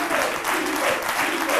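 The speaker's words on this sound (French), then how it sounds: "je vais vous demander d'applaudir très fort" Loud, continuous studio audience applause on an Ivorian midday television show, a brief dense burst of many hands clapping with no voices standing out.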